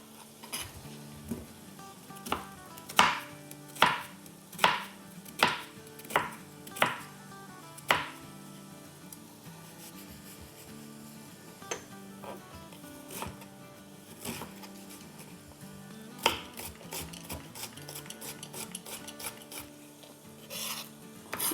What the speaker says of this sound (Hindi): तो इसको हम ऑमलेट कट काटेंगे।